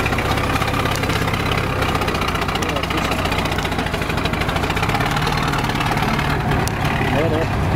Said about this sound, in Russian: О, машина завелась, слава богу.